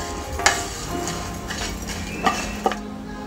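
Dry-roasted sambar spices tipped from a pan into a bowl: soft scraping and rustling with a few sharp clinks of a spoon against metal, close and alone.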